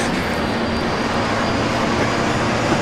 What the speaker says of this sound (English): Do I hear some Tay spooling?